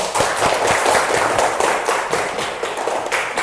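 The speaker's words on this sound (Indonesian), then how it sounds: "tepuk tangan untuk kita semua" Classroom applause from a class of students at the end of a lesson, a steady patter of many hands clapping close by, with a few sharper claps standing out.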